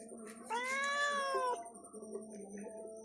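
A cat, once a kitten brought here by its mother, lets out one drawn-out meow of about a second, loud and close, then falls quiet over faint background noise.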